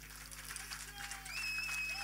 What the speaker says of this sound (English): One big round of applause for Anshul